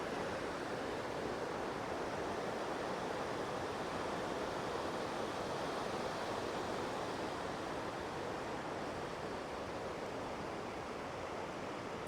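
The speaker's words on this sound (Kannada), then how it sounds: "ಲೋಹಿತ್ಯ ನದಿ ಹರಿತಾ ಇದೆ ನೋಡಿ" The Lohit River rushes past at Parshuram Kund in Arunachal Pradesh, a broad, constant roar of flowing water that holds evenly loud throughout with no break and no voices.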